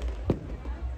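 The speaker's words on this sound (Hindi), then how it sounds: "कितने बम पटाखे वहाँ जला रखे हैं।" A single firework bang bursts out over the noisy crowd at a Dussehra fair, with chatter and fair sounds continuing around it.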